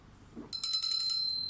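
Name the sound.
golden bell ringing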